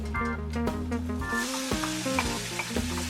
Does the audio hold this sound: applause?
no